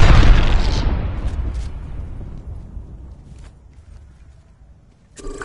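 An Arc Star grenade going off in Apex Legends: a loud, close boom at the start that slowly decays into a fading rumble, followed by a small crackling burst near the end.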